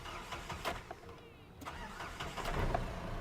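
A 2014 Mahindra Scorpio Getaway 4WD pickup with about 180,000 km on it cranks briefly and catches, then settles into a rough, close mid-pitched idle that swells slightly toward the end.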